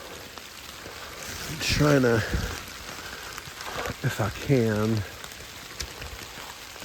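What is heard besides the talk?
steady light to moderate rain on a trail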